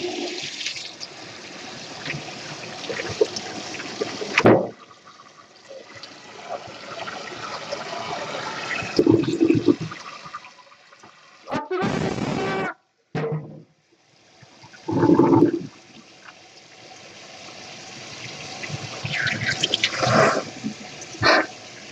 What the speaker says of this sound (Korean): 찬물을 틀어주시고